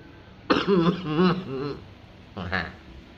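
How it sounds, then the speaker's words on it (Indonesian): A couple of short, throaty coughs close to the mic, followed by a brief pause and another quick cough burst. "Batuk, guys."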